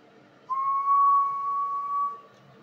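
A steady single whistle tone keyed into an Anytone AT5555N2 radio on lower sideband for a power-draw test, holding one clear pitch for about a second and a half, close and alone.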